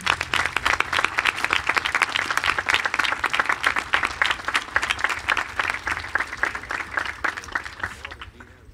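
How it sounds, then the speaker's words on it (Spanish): Dense, steady applause from a concert audience in Betanzos, with many hands clapping at once, fills the whole stretch at close range before thinning slightly at the very end. "dados vos ese aplauso tamén"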